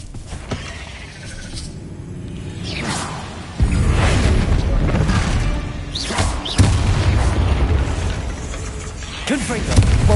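Heavy booms and bursts from the Bombarda explosion spell in Hogwarts Legacy hit several times, loud and close, mixed with creaking, whooshing spell effects and a voice talking in between.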